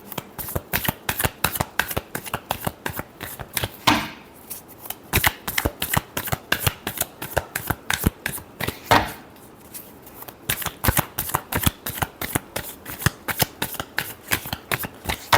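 A deck of tarot-style reading cards gets riffled and shuffled by hand, close and crisp, in rapid rhythmic bursts of snapping flicks with two brief pauses between rounds.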